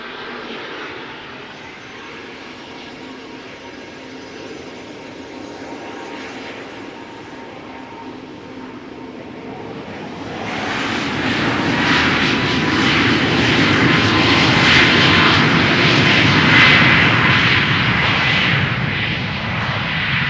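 A TUI Boeing 737 MAX 8 jet departs Schiphol Airport, its engine noise swelling abruptly from a distant hum into a loud, sustained takeoff roar that holds for the rest of the run, with no voices.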